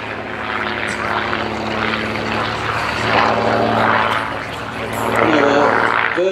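A Gamebird GB1 aerobatic propeller plane drones steadily through an airshow display at Sywell, its engine note swelling and fading as it manoeuvres, under continuous commentary.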